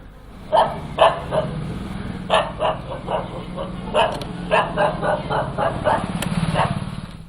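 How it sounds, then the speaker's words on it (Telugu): Several street dogs in Kurnool bark in short, repeated bursts at varying distances over a low engine hum, some barks overlapping. "కర్నూలులో కుక్కల బెడద ఎక్కువగా ఉంది"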